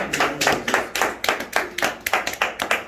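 A congregation at a Christian worship service claps together in a fast, steady rhythm, with a dense run of sharp hand claps that is loud and close and lasts the whole stretch.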